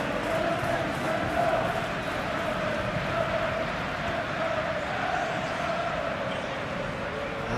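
Steady, dense roar of a large stadium crowd in a football video game, a continuous boisterous wash of massed voices with no pauses, loud and even throughout.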